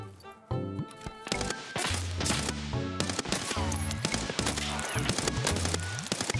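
Gunfire in Escape From Tarkov, with loud rapid bursts of automatic shots and sharp single cracks repeating almost continuously, close and dominant throughout.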